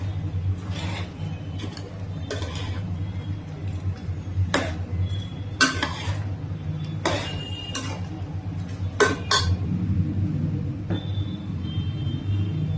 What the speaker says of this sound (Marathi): त्याला हलवून घ्यायचं एकदा व्यवस्थित